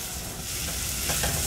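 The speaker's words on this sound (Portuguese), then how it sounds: "agora que está refogado o alho e a cebola, já murchou." Garlic and onion sautéing in a pan, a brief dense sizzle heard close up and steady, alone without talk.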